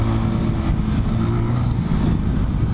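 A Voge 300 Rally motorcycle ridden off-road, its engine a steady, close, loud drone with a constant low throb and no breaks.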